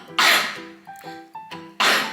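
A sharp, loud sneeze bursts out, followed by a few softer breathy catches and then a second forceful sneeze, close by.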